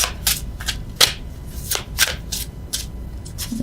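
Tarot cards shuffled and drawn by hand, a quick series of crisp riffling flicks and slaps repeating about every half second, close and clear, no talking.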